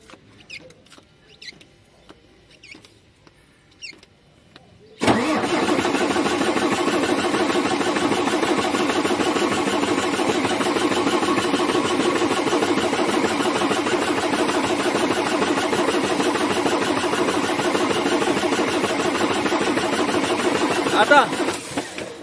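A MAN TGA truck's diesel engine with a low-pressure fuel starting fault cranks and catches after a quiet pause, then runs loud and steady close by with a dense rattling idle for the rest of the stretch.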